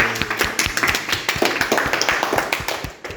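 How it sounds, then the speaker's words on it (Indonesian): Applause from students in a classroom, fairly close and lively, with distinct sharp claps and taps layered over a busy background of rapid hand clapping. "Tepuk tangan untuk kita semua dulu"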